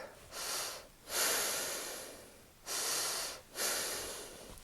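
Deep breath work during a crawling exercise, close, airy inhales and exhales in a slow rhythm, four long breaths with no talking.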